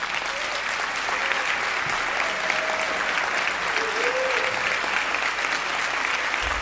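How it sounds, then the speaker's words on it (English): Audience at a WILD10 global gathering applauds volunteers with steady, sustained clapping that fills the hall for the whole stretch, broad and even with a few faint tonal sounds underneath. "So truly a round of applause for all the volunteers who are here"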